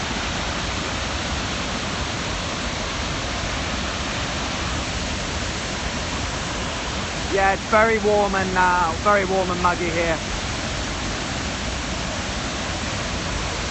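Flood water from a controlled dam release after Typhoon Dujuan in northern Taiwan rushes loudly and steadily, a constant roaring wash, with someone briefly talking over it.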